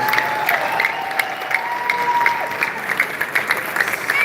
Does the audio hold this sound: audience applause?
yes